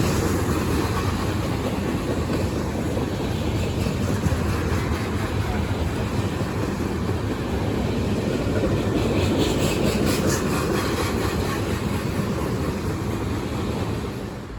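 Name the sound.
Norfolk Southern freight train passing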